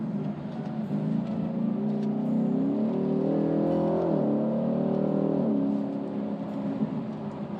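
Ford Mustang with a 10-speed automatic slowing down, the engine blipping up through a quick paddle downshift and revving before easing off, loud and close with no talk.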